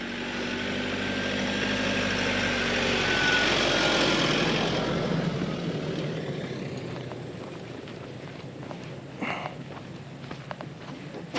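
A vehicle passes on a dusty mountain track near Les Deux Alpes, its engine rumble and tyre noise loud and close at first, then fading away, followed by scattered crunches and footsteps.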